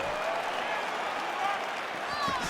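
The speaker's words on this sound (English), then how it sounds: "big pop from the crowd as they get back to their feet" A large arena crowd at an MMA fight between Stipe Miocic and Waldo Cortes Acosta gives a steady, loud roar of cheering and applause that fills the whole moment without letup.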